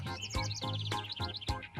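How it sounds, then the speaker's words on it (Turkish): Small birds chirp and tweet in quick repeated bursts in a backyard against a steady background hum, with a few sharper calls standing out. "kuşların şarkı söylemesini dinlemek gibisi yok"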